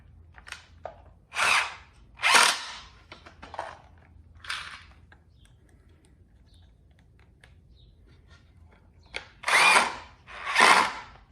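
A power drill drives coarse-thread screws into a glued wooden board joint in several loud whirring bursts, two close together near the start and two more near the end, with faint handling clicks between them.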